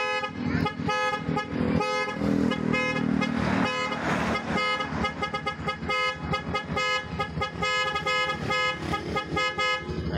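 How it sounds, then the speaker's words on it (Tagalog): Dual horn on a Bajaj motorcycle, a pop-up horn and the stock horn, honking loudly in a rapid run of repeated toots with a few short pauses, close and alone with no talk. "At ngayon naman ay titesting na natin yung pop-up niya at stock horn."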